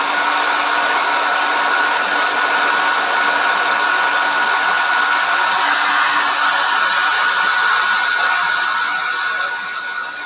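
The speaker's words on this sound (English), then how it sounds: "So get your trusty hair dryer," A hair dryer blows steadily at close range to dry acrylic paint, a continuous loud whooshing whir with a faint high whine, running alone for the whole stretch.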